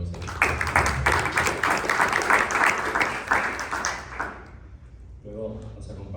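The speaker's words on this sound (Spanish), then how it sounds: "Un aplauso por favor para Luis." Audience applause for a speaker being introduced at a journalism conference panel, a burst of clapping that fades after a few seconds, followed by a voice speaking.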